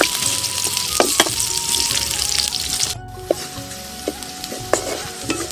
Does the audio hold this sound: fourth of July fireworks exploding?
no